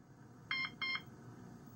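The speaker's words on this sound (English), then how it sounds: "The system will sound 2 short beeps" A security alarm keypad on an Interlogix Concord Express system gives two short electronic beeps in quick succession, clean and fairly close, against a quiet low hum.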